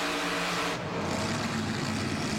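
Roaring engine of a racing vehicle in a side-by-side mud run competition, loud and steady, revving close by throughout with no talk.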